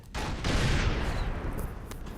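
An anti-tank guided missile fired at an Abrams tank in Operation Flashpoint: Dragon Rising, a sudden loud launch blast followed by a sustained rushing roar that slowly fades.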